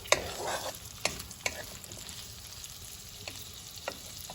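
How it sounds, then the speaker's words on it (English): Whole mace and cinnamon tossed in hot oil in a pan, a steady close sizzle broken by several sharp scrapes and clatters as the spices are stirred, no talk. "This is mace, that is javitri, and cinnamon. Okay. Put them in whole, toss them a little."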